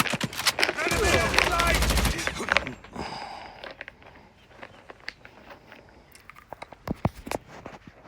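Gunfire in the Call of Duty Mobile game, including a nail gun, crackles as a dense close burst of rapid shots for about two seconds, then scattered sharp single shots follow under quieter talk.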